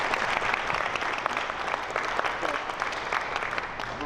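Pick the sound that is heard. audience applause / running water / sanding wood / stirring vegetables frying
audience applause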